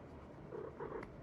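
Domestic black cat purring close up, a soft steady low rumble with a couple of faint vocal murmurs and a brief click near the end, quiet and with no talk.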